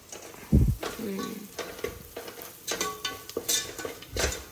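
Vegetables for a fresh togarikalu (pigeon pea) pulao frying in oil in a pan, a close sizzle broken by repeated stirring scrapes and utensil knocks against the pan.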